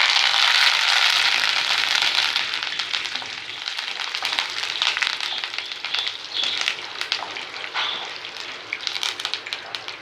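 Curry leaves hit hot oil while making temple-style puliyodharai tamarind rice, giving a loud, dense sizzle with sharp crackles and pops that spits hardest at first and then settles into a steady fry.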